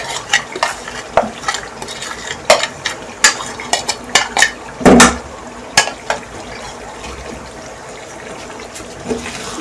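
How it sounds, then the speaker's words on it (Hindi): Marinated beef liver masala (kaleji) frying in a pan, with loud, close stirring and scraping of a utensil against the pan in irregular strokes over a light sizzle, with no talking. "मैं इसमें बाकी का मसाला ऐड कर दूंगी, जो मैंने मैरिनेट करके रखा था"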